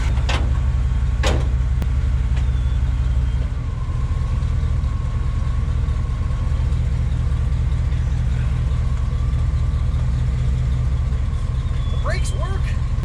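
A V8 Chevrolet S10 pickup with true dual exhaust and Cherry Bomb mufflers idles steadily with a deep low rumble while the truck rolls slowly, a few sharp clicks and knocks sounding nearby.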